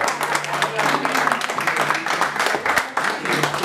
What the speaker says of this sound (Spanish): El aplauso bien fuerte que sea para ellos dos